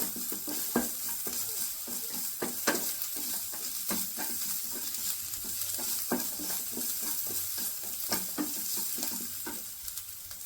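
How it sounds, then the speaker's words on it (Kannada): Chickpea usli with turmeric powder is stirred in a pan, a spoon scraping and clinking at a steady pace over a faint sizzle throughout. "ಮತ್ತು ಅರಿಶಿನದ ಪುಡಿ ಹಾಕೊಂಡು ನೀಟಾಗಿ ಹಿಂಗೆ ಮಿಕ್ಸ್ ಮಾಡ್ಕೊಳ್ಳೋಣ"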